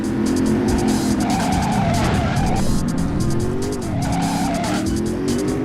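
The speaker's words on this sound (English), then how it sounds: "Driver 2, the classic open-world driving game." Car tires squealing and skidding in the open-world driving video game Driver 2, loud sustained screeches over a revving engine, shifting in pitch as the car slides, with no talk.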